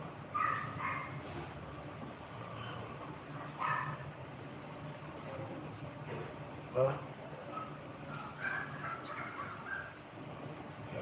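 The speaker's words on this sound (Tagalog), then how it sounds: "Ito aso." A few faint, scattered dog barks and yips come through a dull background, with a voice faintly talking at times.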